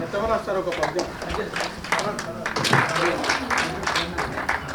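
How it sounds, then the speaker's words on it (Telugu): Audience clapping welcomes a teacher onto the stage at a school gathering, dense uneven applause lasting the whole stretch with crowd murmur mixed in. "Please claps."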